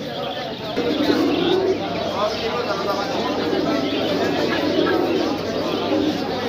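Pigeons coo steadily amid a noisy crowd at Zinjira pigeon market, the soft low calls blending into constant background chatter and bustle.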